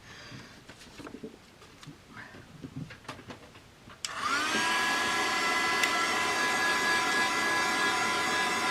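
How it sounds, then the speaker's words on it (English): A heat gun switches on partway through with a steady, loud blowing roar and a rising whine, after a stretch of quiet tapping and handling of craft materials. "I'm going to give it a little blast with a heat gun now"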